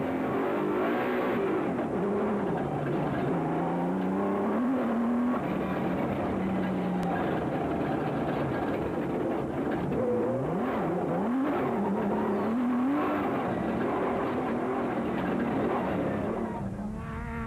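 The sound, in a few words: rally race vehicles driving, Toyota Dealer 400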